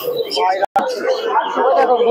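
Pigeons coo at the Krishnanagar pigeon market, where Madrasi pigeons are sold. Their steady cooing carries through the whole clip and breaks off for a moment near the middle. Voices and market bustle mix with the calls.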